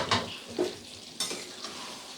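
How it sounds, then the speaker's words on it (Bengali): A lid is lifted off a pot of prawn curry with taro stolons (kochur loti) simmering on the stove, giving a couple of short metallic clinks and scrapes over a faint bubbling background. "এবারে ঢাকনাটা খুলে দেখে নিচ্ছি।"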